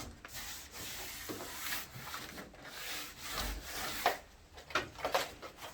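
Wallpaper brush rubbing and smoothing paper down a wall in a wallpapering class, soft repeated scraping strokes, fairly faint and close, with no speech.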